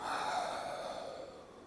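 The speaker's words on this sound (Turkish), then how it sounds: "Tüm nefesi geriye bıraktım." A deep, breathy exhalation during a Pilates stretch, a steady airy rush that is loud at the start and slowly fades over under two seconds, with no talking.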